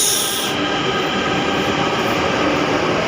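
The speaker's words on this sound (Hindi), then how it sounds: "तो दोस्तों मेट्रो आ गई है, अब चलते हैं यहाँ से मंडी हाउस।" A Delhi metro train pulls into a station with a loud, continuous rush of rolling wheels, rumble and hiss filling the platform throughout.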